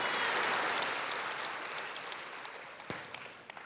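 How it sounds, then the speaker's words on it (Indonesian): A church congregation applauds, a broad dense wash of many hands clapping that starts loud and full, then slowly thins and fades, leaving a few scattered claps at the end. "Ayo kita kasih tepuk tangan yang paling meriah buat Tuhan kita."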